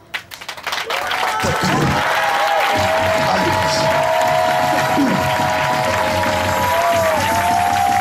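A church congregation applauds and cheers for Jesus during a Sunday service. The loud, steady clapping and crowd noise rise within the first second and hold to the end, with a sustained tone running beneath.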